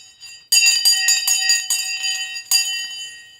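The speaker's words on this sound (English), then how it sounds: "The bell just gone and I bloody missed it." A bell rings out loud and close, its bright, sustained tone repeating in several sharp strikes with a fresh, stronger strike near the end and no voices alongside it.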